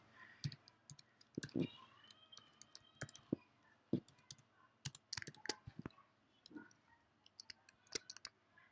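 Typing on a computer keyboard, rapid irregular clicks and key taps close by, quiet overall, with short bursts and brief pauses while a program is written.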